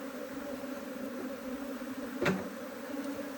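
Africanized honey bees droning around a hive being relocated to an apiary, a steady low buzz with a brief louder swell as one bee passes close, no talking.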